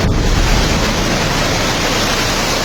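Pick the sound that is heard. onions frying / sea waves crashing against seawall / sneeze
sea waves crashing against seawall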